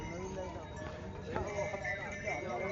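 Horses waiting with their handlers for descending pilgrims on the Kedarnath trek, with hoof clip-clops mixed into a busy mountain-path soundscape and people talking nearby throughout.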